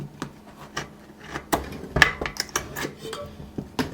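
Metal butter knife prying a moped tire onto its rim, giving a series of sharp clicks, scrapes and taps in irregular bursts, close up and fairly quiet, with no talking.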